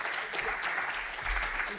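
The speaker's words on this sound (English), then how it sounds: "Please give a round of applause." Audience applause welcoming a speaker onto the stage at a women in IT event, a steady dense wash of clapping from a crowd, fairly loud and continuous throughout.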